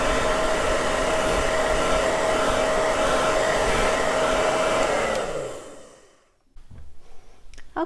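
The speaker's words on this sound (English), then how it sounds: "I took a hair dryer to it" A hair dryer dries a watercolor painting, blowing with a loud steady whine and rush for about five seconds before it winds down into silence, followed by soft handling noises.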